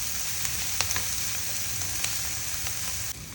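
Tomato and coriander cooking on a low flame in a pan for Parsi-style akuri, giving a steady, soft sizzle with a few faint scrapes, close and continuous with no talk.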